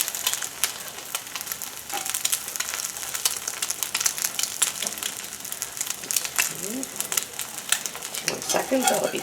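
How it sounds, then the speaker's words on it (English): An egg frying in a pan with bacon fat, sizzling steadily and close throughout, with crackling pops and a brief voice-like sound near the end. "it's still frying and it's got yolk to spare"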